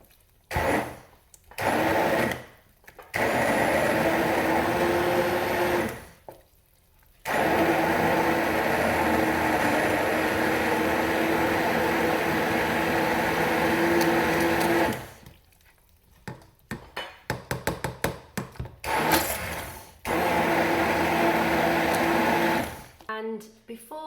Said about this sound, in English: Now I'm blending the soup.